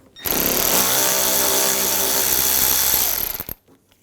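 Power tool with a T25 socket spinning out a bumper bolt on a 2011-2018 Volkswagen Jetta, a loud close whir lasting about three seconds before stopping abruptly.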